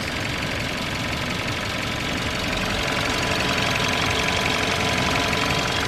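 The four-cylinder engine of a KIA K7 car runs at a steady idle, heard close with a constant dense rumble and mechanical clatter and no pauses.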